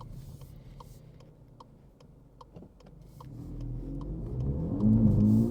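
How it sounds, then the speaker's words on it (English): A 2024 VW Polo GTI accelerating in sport mode, its engine drone building steadily from a low hum into a loud, rising rev with a shift near the end, heard from inside the car. "So what's the acceleration like from the Polo GTI?"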